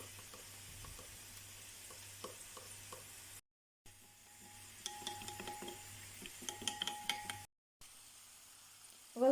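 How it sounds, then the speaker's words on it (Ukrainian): Scraping, clinking stirring of a honey-soy sauce with dried granulated garlic in a bowl, with irregular soft taps and swishes, close by and alone. "І перемішуємо все до однорідності."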